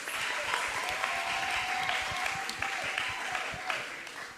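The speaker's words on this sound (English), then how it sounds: "so give yourselves a round of applause" Steady applause from an audience at a student business-idea pitch event, dense clapping filling the whole stretch at a moderate level, with a faint tonal line running beneath it.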